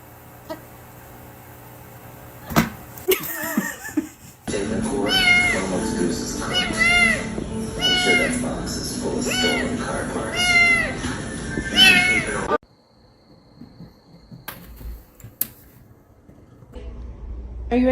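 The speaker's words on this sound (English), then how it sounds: "I think this is the only cat that hates catnip." A domestic cat meows repeatedly and insistently at close range, a run of drawn-out, wavering cries, with a person's voice speaking around them.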